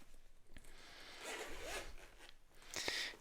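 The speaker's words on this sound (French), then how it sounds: "la fermeture éclair est là" The zipper on a small fabric storage case for a shotgun microphone is pulled open in a few short, close, quiet rasping strokes with brief pauses.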